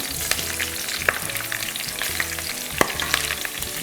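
Onions fry in a pot with a dense, continuous sizzle, and a wooden spoon adds occasional sharp stirring clicks. The sound is close and fairly loud, with no voices.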